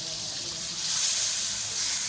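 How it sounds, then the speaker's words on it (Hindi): Hot water poured into a pot of cooking beef for achaar gosht, giving a steady hissing sizzle and bubbling wash, close and continuous with no talk. "गर्म पानी इसमें जाएगा ताकि इसका टेम्परेचर मेंटेन रहे"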